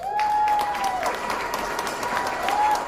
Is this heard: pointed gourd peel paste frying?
no